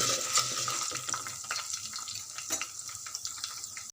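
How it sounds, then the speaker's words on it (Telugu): Sesame seeds frying in a pan while being stirred, giving a faint, steady sizzling hiss with light, irregular scraping ticks throughout and no speech. "కొద్దిగా నువ్వులు ఇది బాగా ఫ్రై అయ్యేదాకా కలపాలి"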